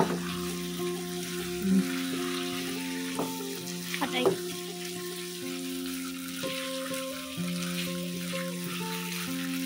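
Steady sizzling of jumbo squid stir-frying in a hot pan for fried rice, with occasional clinks and scrapes of stirring throughout.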